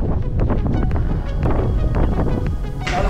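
Strong wind buffets the microphone on the Zugspitze summit in Germany, with loud, continuous gusty rumble dominating the sound at close range.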